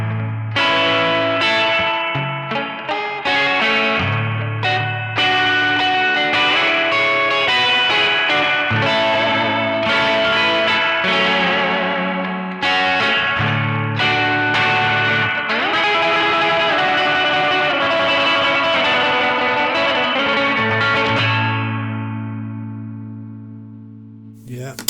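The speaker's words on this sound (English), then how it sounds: "leave a bit of space for that reverb to do its thing" An electric guitar played through a Danelectro Spring King Junior spring reverb pedal rings out in chords and single notes, each phrase trailing into a splashy, lingering spring-reverb tail, loud and close with no talk.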